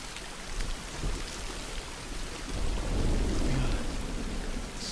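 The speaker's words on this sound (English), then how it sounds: "Wow, the thunder." Steady heavy rain with a deep rolling thunder rumble swelling midway, from The Last of Us Remastered, a continuous close wash of downpour with no talk.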